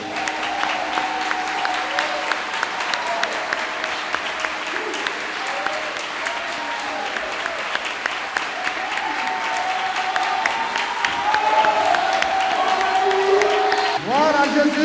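A church congregation applauds together for a sustained stretch, dense steady clapping filling a large room and swelling slightly toward the end, with voices mixed in.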